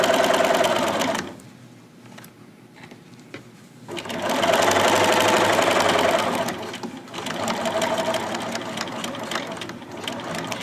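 Sewing machine stitching a zipper bag, with fast loud runs of needle clatter broken by a short quiet pause for pivoting, then resuming in two more close bursts.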